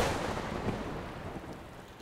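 A long thunder rumble in a children's cartoon, loud at first and slowly fading over two seconds, a dense low roar with no speech.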